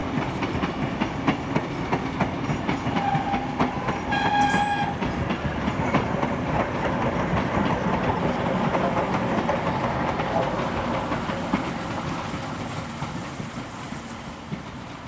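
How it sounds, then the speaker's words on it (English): Steam locomotives 4001 and 6029 haul a train on the Thirlmere Banks in New South Wales, heard as a continuous heavy rumble with rhythmic clickety-clack, a brief horn sounding partway through, loud and steady throughout. "4001 now leads the last train to Picton for Saturday with 6029."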